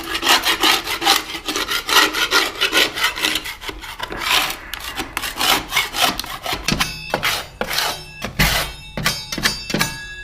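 Old paint is scraped off a window in quick, rhythmic rasping strokes, close and loud, that break into sharper, more separate scrapes toward the end.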